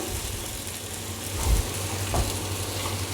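Boiled taro is sautéed in a pan with a dense, steady sizzle and a couple of low bumps from stirring, and no voices.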